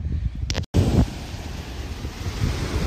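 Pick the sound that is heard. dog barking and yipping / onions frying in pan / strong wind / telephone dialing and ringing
strong wind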